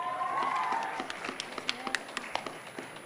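An audience of student delegates at a Model United Nations opening ceremony breaks into scattered applause, claps thinning into a few sharp isolated ones, with a faint voice at the start.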